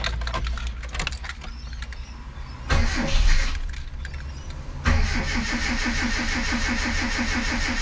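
A Mitsubishi Sigma engine with a freshly fitted Weber 32/36 carburettor cranks, catches after a short try, then settles into a loud, even idle close by.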